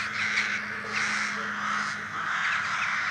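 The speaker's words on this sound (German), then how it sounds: "Jetzt werde ich hier von den krähenden Hühnerköpfen belästigt." Crows caw in repeated harsh calls at a moderate distance, about three evenly spaced bursts over a steady low hum, with no talking.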